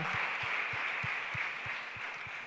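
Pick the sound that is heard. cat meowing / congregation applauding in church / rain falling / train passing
congregation applauding in church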